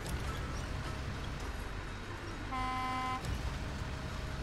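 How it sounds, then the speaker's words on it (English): A truck horn sounds in the SnowRunner video game, one steady toot lasting under a second over a constant rumbling engine drone. "I hear you honking."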